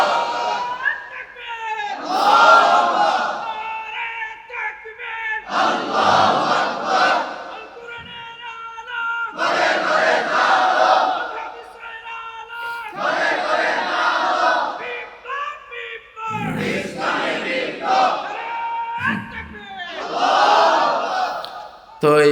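A large crowd at a religious sermon gathering roars takbir in unison, with loud, long rhythmic chant bursts repeating after a preacher's call.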